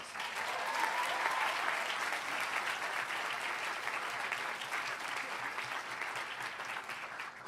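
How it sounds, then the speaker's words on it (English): Graduates at the Nicholas School recognition ceremony applaud themselves, a broad, steady roar of many hands clapping for several seconds in a large room, continuous and undisturbed by speech. "Give yourselves a huge round of applause."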